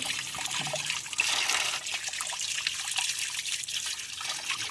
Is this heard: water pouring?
yes